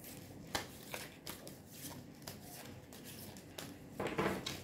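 Tarot cards are handled and pulled for a reading, making a series of soft, crisp flicks and papery snaps at irregular intervals, ending in a short flurry of card rustling, close and quiet with no talk.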